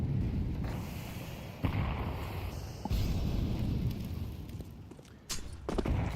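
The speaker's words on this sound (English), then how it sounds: "Ooh, the nades." Grenade blasts in a Counter-Strike match between The MongolZ and Aurora Gaming, a dense roar of booming explosions with sharp bursts near 1.6, 2.9 and 5.3 seconds, loud and continuous without talk.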